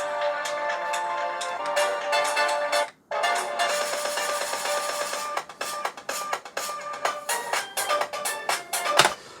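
An electronic dance song plays through a monitor's built-in speakers, thin and bass-light, with steady synth chords and a pulsing beat at moderate volume and a brief dropout near the start.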